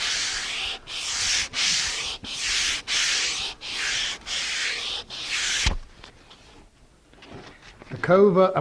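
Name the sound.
hand sanding wood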